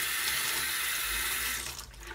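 Running tap water splashing onto a Beauty Blender makeup sponge, a steady close hiss of flowing water that shifts slightly as the sponge is moved under the stream.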